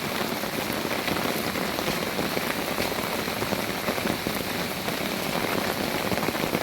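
Steady, heavy rain pours down on a hard surface, a dense continuous hiss of drops with no pauses, fairly close and loud.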